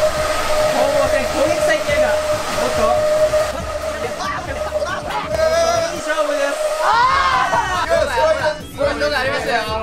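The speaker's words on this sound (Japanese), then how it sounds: "さあ、両者ドライヤーがつきます。" Hair dryers blow with a loud, steady whooshing hiss during a hair-dryer soccer game, briefly dropping out before resuming, while excited voices chatter and call out over the noise.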